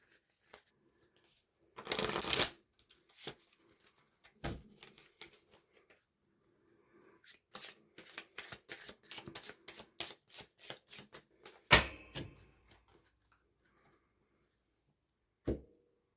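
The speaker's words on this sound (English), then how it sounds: "And shuffle the AEO deck." Several bursts of card shuffling for a war board game: a long riffle, then a run of quick flicking cards, a final riffle and a sharp tap, with quiet gaps between, fairly close.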